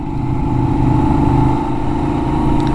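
A Benelli 752S motorcycle engine runs steadily and loudly throughout, a close, continuous throaty drone with no voices over it.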